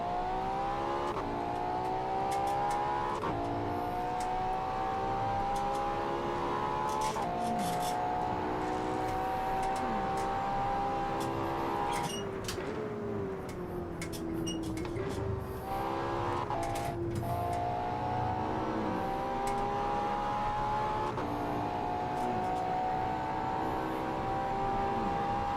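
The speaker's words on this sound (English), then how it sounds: "Very fast car." A very fast car at Lime Rock Park, a Mazda MX-5, its engine droning loud and continuous with rising and falling pitch through gear changes and corners, no talk.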